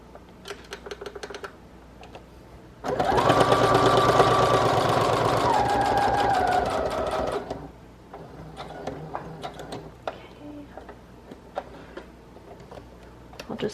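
A sewing machine stitches pink lace in a quick, steady mechanical run lasting several seconds, loud and close, with its pitch shifting partway through, framed by quieter ticking and handling noises before and after.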